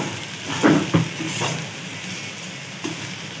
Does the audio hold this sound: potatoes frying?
yes